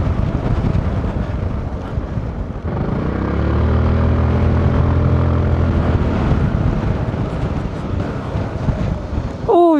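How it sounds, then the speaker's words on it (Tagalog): Strong cold winter wind on a high mountain near a hanging bridge, a loud steady rushing buffet against the microphone with a low droning hum swelling through the middle, and no talk. "Ang lakas pa ng hangin."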